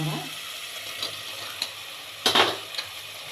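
Soya chunks stirred in a frying pan for soya biryani, with a soft background sizzle broken by a few scraping strokes of a spoon, one louder stir near the end; no speech.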